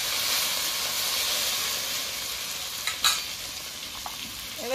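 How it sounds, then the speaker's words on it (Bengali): Boiled taro stolons fry in a pan over tempered spices, hissing and sizzling steadily up close, while a spatula stirs them with a few sharp scrapes and clicks toward the end. "লতি দিয়ে দিয়েছি, এবার একটু নেড়ে চেড়ে নেব"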